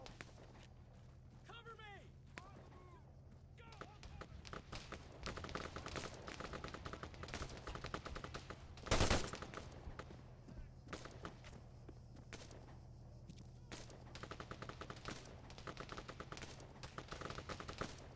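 Machine gun fire in the video game Arma 3: a distant, steady crackle of automatic bursts running throughout, with one louder, closer burst in the middle.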